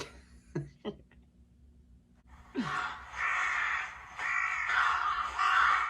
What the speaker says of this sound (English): you must each be assigned your own Kasugai Crow. They all get a crow.